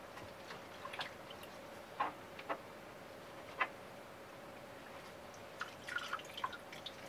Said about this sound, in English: I had to wring it out